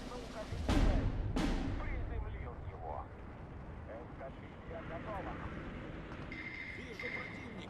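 Bombing and artillery strike in the WWII strategy game Steel Division 2: two heavy, close blasts in quick succession followed by a rolling rumble and scattered battle noise, with a voice talking underneath.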